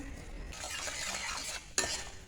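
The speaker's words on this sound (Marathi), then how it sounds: "तर आपल्याला हे थोडंसं फ्राय करून घ्यायचं आहे तेलामध्ये" Food fries in oil in a pan and is stirred with a utensil, giving a soft, continuous sizzle with scraping strokes and a sharp clink near the end, heard close with no talking.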